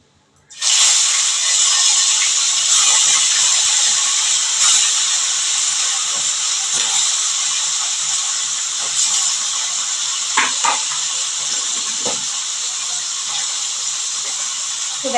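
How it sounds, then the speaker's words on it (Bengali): Raw fish dropped into hot oil for deep frying sizzles in a loud, steady hiss that starts abruptly and holds, with occasional crackles and faint utensil taps. "ডুবো তেলে মাছগুলো ভাজা হচ্ছে"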